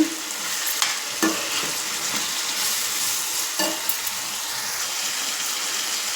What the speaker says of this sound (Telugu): కొంచెం సిమ్లో పెట్టుకొని వేపుకోవాలండి అలా వేగుతుంటాయి